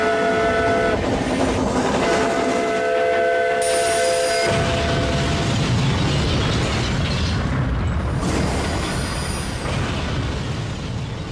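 A violent, roaring crash of trains colliding, with wooden carriages smashing, heavy metallic rumbling and grinding, loud and continuous, with harsh tonal screeches over the din.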